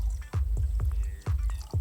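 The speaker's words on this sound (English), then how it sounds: "So I'm going to add a little bit of water here and show you what it does to my pH indicator." Water poured into a pH indicator solution in a small container, heard as a series of rhythmic splashy glugs and drips, close up and clear, with no talking.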